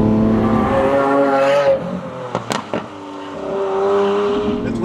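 A 2018 Lamborghini Aventador S Roadster engine sings with a loud, high-pitched tone on Corsican roads, holding steady, then dropping off with brief sharp clicks before rising again, with no talking.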